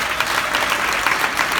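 A comedy club crowd at a stand-up show bursts into brief, lively applause, a dense wash of clapping heard close and alone.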